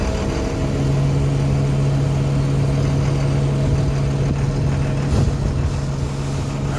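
A field line blower fills a silo with a loud, continuous engine drone and a steady mechanical hum, close up and unbroken throughout.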